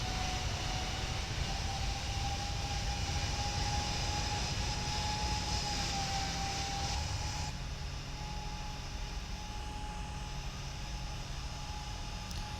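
Simulated jet engines of a PMDG 747-8F freighter departing Kabul in a flight simulator game, a loud, continuous broadband roar with a steady whining tone, easing slightly partway through as thrust drops.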